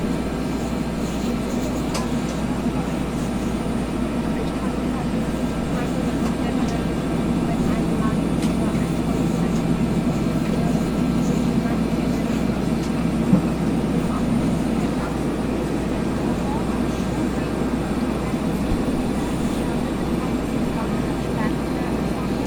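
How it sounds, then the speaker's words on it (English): Steady, droning aircraft engine noise from inside a plane in flight near El Paso, Texas, continuous and even in loudness throughout with no break. "I have control of the aircraft"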